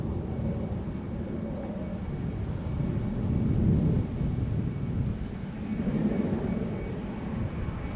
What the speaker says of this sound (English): Over here we have an A320 Neo Welling arriving from Alicante